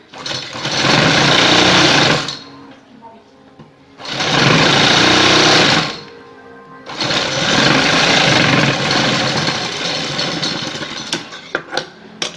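A domestic sewing machine stitches lace onto a sleeve edge in three loud, close bursts of rapid, buzzing needle action, separated by brief pauses, with no talking.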